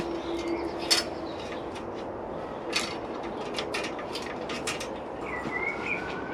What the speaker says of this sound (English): You can hear the bird song now.